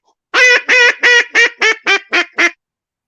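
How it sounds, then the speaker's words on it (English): A hand-blown duck call sounds a series of eight loud, nasal quacks in an even, slightly quickening rhythm, close up and alone against silence. "Can you hear duck calls?"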